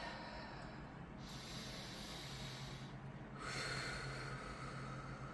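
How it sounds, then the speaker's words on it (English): A long, slow, deep breath drawn in and let out, soft and close with a breathy hiss, alone with no talking. "let's take a big deep breath"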